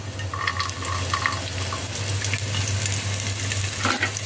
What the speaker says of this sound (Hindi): अब इसमें हम डाल देंगे सारा लहसुन कटा हुआ